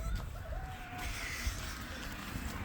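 Chickens cluck and call outdoors around a homestead yard just after being let out, a faint, low-level scatter of fowl sounds with no talking.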